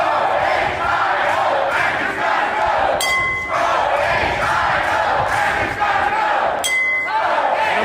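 A lockdown protest crowd outside the State House shouts and roars continuously at close range, with two sharp metallic clinks cutting through the din.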